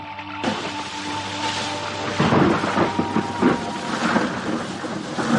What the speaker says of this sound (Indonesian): Petir terus menyambar berkali-kali, sedangkan hujan mulai turun.